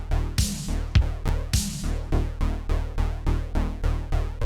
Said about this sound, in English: And here is the first draft of the bass line.